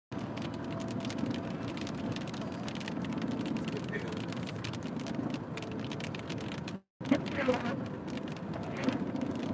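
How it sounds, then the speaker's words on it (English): Steady rain and wind roar around a car driving through a thunderstorm on a long trip to Minnesota, a dense wash of noise with one brief dropout near the end. "So far, it's just rain, which is good."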